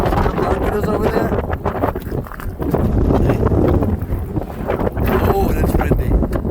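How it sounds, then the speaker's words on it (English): Gusty wind blows across open Thomas Pond on a cold day with snow approaching, buffeting the microphone in loud rushing surges that dip briefly and return. "So it's a wee windy"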